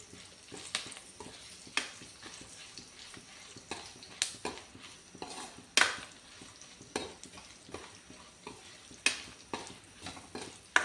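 Spices fry with turmeric powder in a pan while a spoon stirs and scrapes, giving irregular clinks and scrapes over a soft, steady sizzle.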